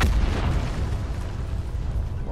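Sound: Hellstorm missile strike explosion in video game Call of Duty Black Ops 4

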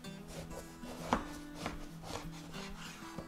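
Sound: knife slicing eggplant into 1 cm slabs

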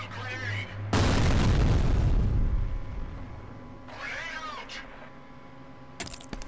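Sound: grenade explosion, from video game F.E.A.R

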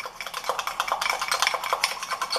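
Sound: stirring Nescau into condensed milk frosting with a spoon

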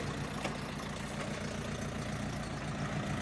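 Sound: Mitsubishi MT 22 tractor engine running the rotary tiller

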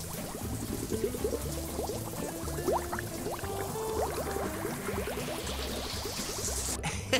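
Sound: water rinsing shampoo out of dog's fur, Paw Patrol video game

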